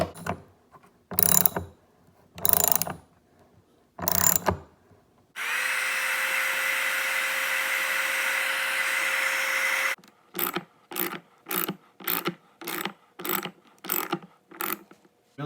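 A thread tap is turned by hand to cut threads into a Mazdaspeed 3 turbo inlet pipe, making repeated short ratcheting clicks in bursts, with one longer steady grinding stretch in the middle; close and clear, with no talk.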